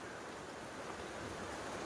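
Steady outdoor rainfall, a soft, even hiss of drops with no breaks, faint and uniform throughout.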